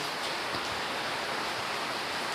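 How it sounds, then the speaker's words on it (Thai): Light drizzle falling outdoors in Sungai Kolok, Thailand, a steady even hiss of rain that fills the whole moment with no breaks and no voices. "ขณะนี้กำลังมีฝนตกโปรยๆเนาะที่สุไหงคุลก"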